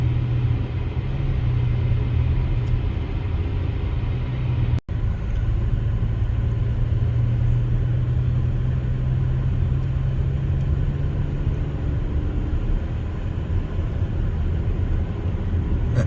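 Steady low rumble of a car driving on a road through Red Canyon near Bryce, heard from inside the cabin, constant and moderately loud with one brief sharp click partway through.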